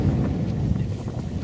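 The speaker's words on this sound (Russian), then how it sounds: "Дубняк, ветер ледяной." Icy late-March wind outdoors at a fishing spot buffets the microphone with a loud, low, rumbling roar that gusts continuously through the whole moment.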